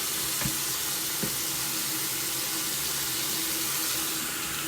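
Water being poured out of a water flosser reservoir into a sink, a steady splashing, trickling stream with a couple of brief knocks early on, close and continuous.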